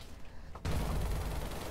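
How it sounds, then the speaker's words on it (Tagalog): Sudden burst of rapid machine gun fire in the video game Minecraft cuts in after a quiet moment and continues as a dense, loud, continuous rattle. "Machine gun."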